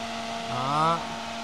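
An electric fan switched up to high speed blows hard, giving a steady whooshing roar with a rising motor whine partway through and a constant low hum beneath.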